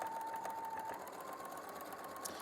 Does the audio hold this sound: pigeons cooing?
no